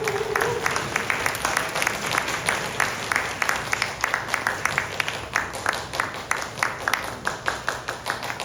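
An audience at a church youth summer retreat claps to welcome a pastor, a steady, dense round of applause that continues throughout with no voices over it.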